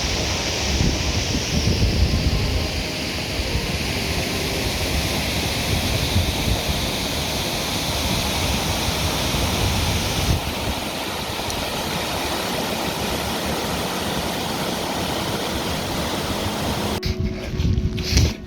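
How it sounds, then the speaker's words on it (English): Cascading waterfall by Barbrook Reservoir on a moorland pack horse road, a steady broadband rush of falling water mixed with gusty wind buffeting the microphone, continuous and fairly loud with no talking. "There's a bit of a cascading waterfall there"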